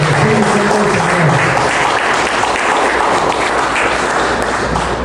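A church congregation breaks into loud, sustained applause, a thick continuous roar of clapping with crowd noise and faint low tones underneath.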